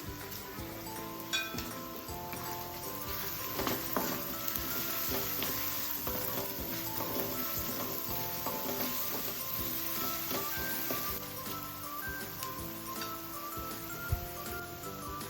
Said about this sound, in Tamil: ஒரு பெரிய வெங்காயம் கட் பண்ணி வச்சுருக்கேன் இதை சேர்த்துக்கிறேன்